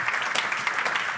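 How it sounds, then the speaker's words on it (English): A conference audience applauds after a presentation on EU laboratory reporting of notifiable infectious diseases: a dense, steady wash of many hands clapping at once, loud and continuous throughout. "let's give a warm applause for Oliver for this great presentation."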